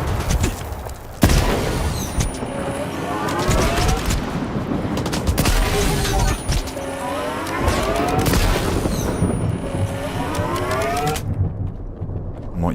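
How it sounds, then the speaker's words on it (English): A grenade explosion in the video game STALKER 2, a sudden loud blast followed by dense rolling gunfire and combat noise that carries on at high volume before cutting away. "Grenade."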